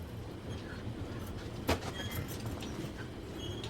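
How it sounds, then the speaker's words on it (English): A freight train rolls past at Fort Madison, a steady low rumble of railcars carrying through the whole stretch, with one brief sharp clank near the middle and faint high squeaks above the constant drone. "Once the freight train clears"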